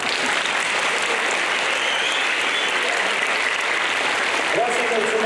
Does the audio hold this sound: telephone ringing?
no